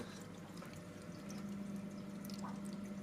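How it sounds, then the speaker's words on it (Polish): Water gurgles and splashes softly in an aquarium overflow pipe that is drawing in air because too little water flows in, a faint steady trickle over a low pump hum. "słyszycie taki piękny, drobny chlupot."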